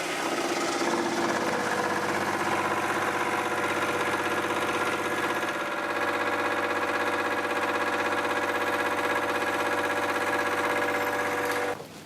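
A metal lathe turns at 1000 RPM while cutting a roughly 60 mm mounting plate at 5 mm depth, a steady, loud machine drone with layered tonal hum and faint chatter, continuing unbroken before cutting off at the end.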